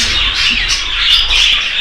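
Cockatiels calling loudly and steadily, with a dense overlapping stream of close chirps and whistles that continues unbroken throughout.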